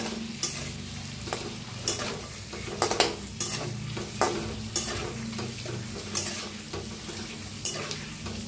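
Masala eggs with turmeric, red chilli and salt being stirred in a frying pan, with a steady sizzle under repeated sharp scrapes of the spoon against the pan, close and fairly loud.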